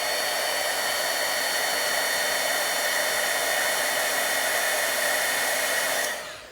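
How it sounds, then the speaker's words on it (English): A heat embossing tool runs steadily while melting embossing powder on a card, giving a loud, close, even whirring hiss that holds constant before cutting off near the end. "this is an embossing tool. It emits heat, it doesn't blow air."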